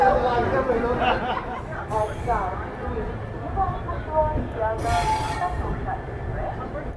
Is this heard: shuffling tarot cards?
no